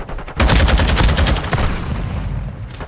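Sustained Modern Warfare 2 gunfire rattles out in loud, rapid bursts, dense and close, with booming low thumps under the shots and no pause for the whole stretch.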